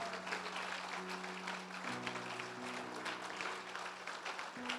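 A church congregation applauds during an evening service, giving dense, continuous clapping at low volume with soft held keyboard chords underneath.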